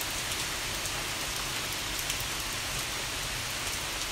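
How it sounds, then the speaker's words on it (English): Steady rain falling, a dense, even hiss of drops pattering on a surface, loud and continuous with no voices. "The rain."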